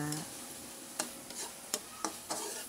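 Shrimp frying in butter with minced garlic in a pan: a continuous soft sizzle broken by several distinct scraping stirs of a utensil at irregular intervals.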